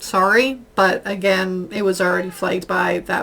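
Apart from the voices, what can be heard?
No everyday noise stands out behind the speech.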